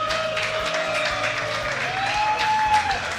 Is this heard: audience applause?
yes